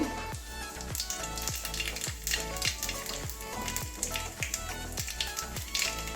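Dry red chilli and nigella seeds sizzle in hot oil with a steady, dense crackle, while a rhythmic thumping beat and tonal music run underneath throughout.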